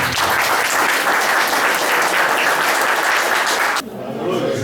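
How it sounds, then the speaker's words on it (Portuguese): Dense, loud audience applause for the artist Aicodani at a poetry evening (sarau) in Grajaú, a continuous wash of many hands clapping that drops off abruptly near the end. "Um aplauso para Aicodani"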